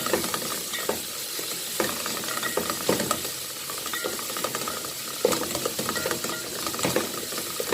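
Onions and whole spices frying in a pan for maqluba, a steady sizzle broken by repeated scraping strokes of a spoon as the mix is stirred, fairly close and moderately quiet with no talk.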